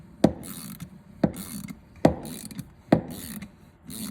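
A wrist pin puller shaft is cranked by hand to draw a stuck piston pin out, giving four sharp ratcheting clicks at roughly one-second intervals, each trailing into a brief scraping grind, close up and alone.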